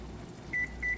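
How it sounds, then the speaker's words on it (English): An oven timer being set in a home kitchen while Thanksgiving dinner bakes at 400 degrees gives two short, clear electronic beeps about a third of a second apart over a quiet room hum. "Set timer, get that to 45 minutes, and start."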